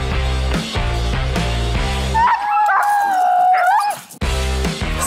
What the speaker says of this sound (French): petite balade de traîneau à chien avec la gang de l'attelage de la Lièvre